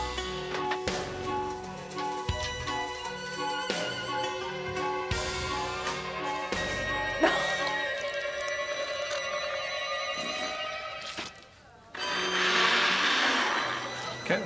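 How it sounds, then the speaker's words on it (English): A blender runs for a full minute, whirring loudly and steadily as it blends a mixed load of food, its motor pitch shifting and straining as the contents churn, then a brief dip before the grinding roar resumes. "ask Alex to put all the contents in a blender for 1 minute"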